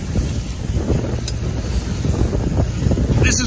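Strong wind buffets the microphone out on a boat on open water during a sea duck hunt in Maryland, making a loud, continuous rumbling roar with no talk.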